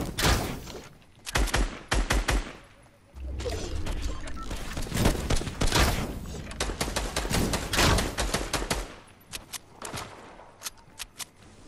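Rapid bursts of gunfire from the video game Fortnite, with clusters of sharp shots and longer stuttering volleys, loud and close throughout.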